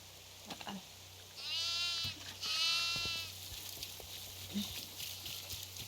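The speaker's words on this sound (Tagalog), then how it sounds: "Wala, gago nandun yung Lord, kambing ko uy" A goat bleats twice in quick succession in the video game Devour, wavering and nasal, over a low background hum with a few soft clicks.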